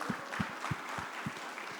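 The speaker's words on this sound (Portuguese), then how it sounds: "Palmas para o nosso técnico, gente." Church congregation applauding their sound technician: steady, fairly quiet clapping with rhythmic soft thumps every third of a second over a diffuse wash of hand claps, no voices.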